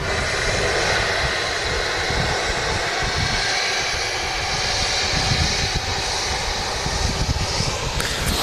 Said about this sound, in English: Also a Jet2 A321 touching down as well.